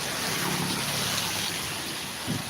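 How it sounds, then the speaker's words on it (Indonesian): Steady rain falling during a morning walk, a continuous broadband hiss of drops on surfaces, moderately loud and unbroken. "Masih sih, masih hujan."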